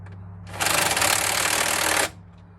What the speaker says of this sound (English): This Makita tightens things like kind of like mid-range, not like too tight